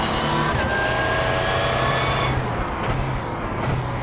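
A steady onboard drone from an LMP1 prototype race car engine in a Daytona 12 Hours racing game, loud and continuous at high revs with a faint shift near the middle and no voices over it.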